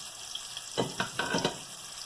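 Pork chop sizzling in a frying pan, a soft steady hiss with a few brief crackling bursts, close and fairly quiet, no talking.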